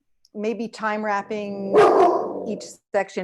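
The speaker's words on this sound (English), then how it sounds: "that is my dog" A pet dog barks in a short burst partway through, mixed in under a person talking over a call.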